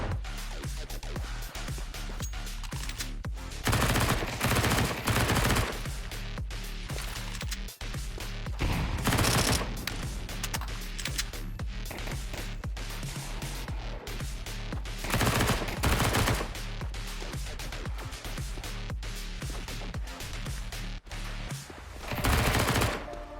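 Repeated bursts of automatic gunfire in Counter-Strike 2, shots fired through a door at a 2025 Austin Major match, loud and recurring in clusters over a dense game soundscape.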